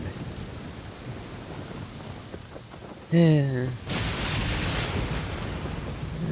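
Genshin Impact thunderstorm: a low rumble of thunder with a rolling, descending tone breaks over steady rain hiss, and heavier rain follows it, with game music faintly underneath.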